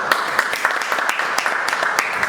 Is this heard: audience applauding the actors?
yes